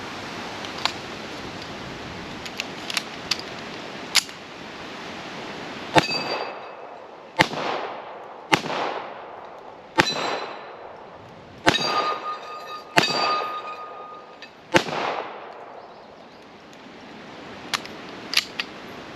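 Shots from a Taurus PT 1911 pistol loaded with a Wilson Combat magazine, about a dozen sharp cracks spaced a second or two apart, some with metallic clanks, each followed by a short ringing decay.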